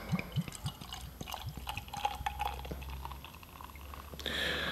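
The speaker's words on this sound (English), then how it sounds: "And I'll pour it into this footed beer glass." Tennent's beer aged with whisky oak, 6.0% ABV, poured from a bottle into a footed beer glass, giving soft gurgling and fizzing liquid sounds with small clinks, quiet and close, ending in a brighter hiss of foam, with no talk.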